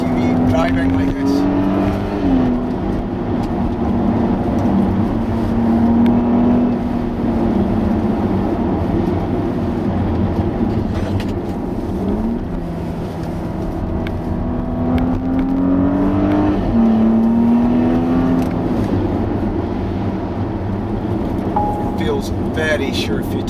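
Inside a Porsche Cayenne S 2.9 SUV at speed, a steady engine and road roar is heard from the cabin, with the engine note rising and falling through gear changes as a person talks over it.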